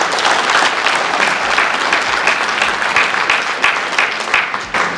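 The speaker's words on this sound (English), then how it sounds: "I think we need to give a round of applause." A crowd at a Texas BMX Hall of Fame ceremony in San Antonio gives a round of applause, with steady, dense clapping that holds at full strength for the whole stretch.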